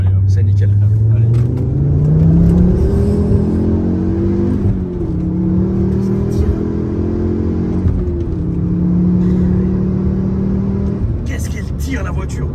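Ford Focus RS engine accelerating through the gears, a loud droning note that climbs in pitch, drops and climbs again with each shift, heard from the cabin with road rumble underneath.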